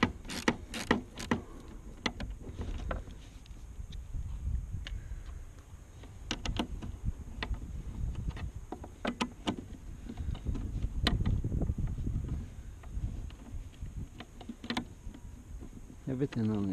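A 1/4 inch socket ratchet clicks in quick, uneven bursts while undoing 10 mm wing mirror bolts on a motorcycle, close and fairly faint.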